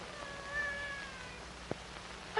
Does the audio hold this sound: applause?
no